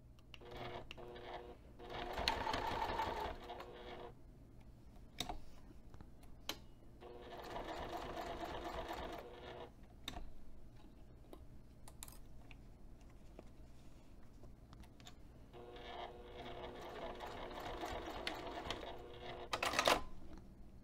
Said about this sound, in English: Sew a horizontal line and then come back down the other side.